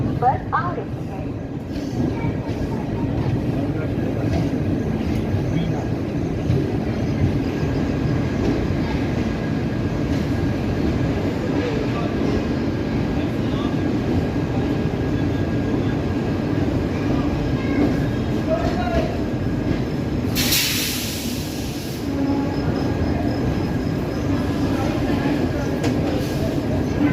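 A train pulling into platform 3 at an Indian station, a continuous low rumble of rolling railcars with a brief hiss partway through, under faint background station chatter.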